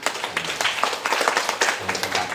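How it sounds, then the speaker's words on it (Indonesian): Clapping from an audience at a village halal bihalal gathering, a burst of dense, irregular hand claps close by, lasting a couple of seconds with a faint voice underneath. "Tepuk tangan."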